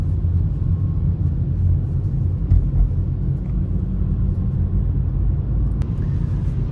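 A car driving on a road, a constant low engine and tire rumble at steady loudness throughout, with no talking.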